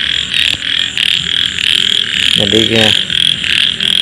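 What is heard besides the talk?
field frog croaking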